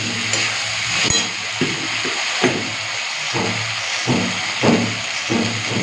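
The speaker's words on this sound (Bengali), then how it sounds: "মশলাটাকে ভালো করে কষে নিই" Spice paste with potatoes fries in a pan, giving a steady close sizzle broken by repeated scraping strokes of a stirring spoon.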